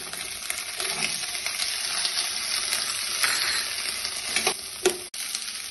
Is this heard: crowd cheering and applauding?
no